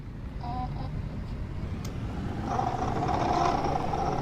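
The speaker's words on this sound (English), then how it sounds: "reversing horn, reversing beeper" Reversing beeper on a Volvo B7L bus with Wright Eclipse Metro body in the OMSI 2 bus simulator, a brief repeating electronic beep over the steady rumble of the idling engine.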